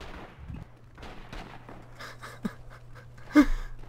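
Gunfire in Rising Storm 2, scattered shots popping at a distance over a steady low hum, with a sharper crack near the end and some heavy breathing in between.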